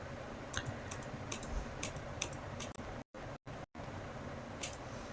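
Computer keyboard being typed on, a quiet run of crisp, evenly spaced key clicks, with a few brief dropouts near the end and a final sharp keypress.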